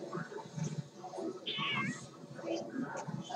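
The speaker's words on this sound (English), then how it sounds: "This cat's interrupting me." A cat meows repeatedly and plaintively, close by, with a drawn-out wavering cry in the middle, while a person talks intermittently around it.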